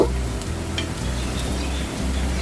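Chopped ginger and garlic sizzle quietly in a pan while being stirred for a restaurant-style beef nihari, with soft scraping under a low steady hum.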